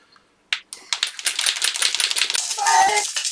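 Spray paint cans for an RC car body, a Losi Baja Rey, shaken vigorously, giving a loud, rapid, continuous rattle of the mixing ball that starts abruptly and runs steadily for a few seconds.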